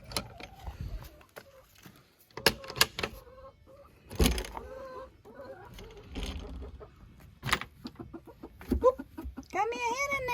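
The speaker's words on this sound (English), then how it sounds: "I think I had me a hen that was sitting in there" Hens cluck and squawk in short bursts close by in a pen, mixed with rustling, knocks and occasional voices talking.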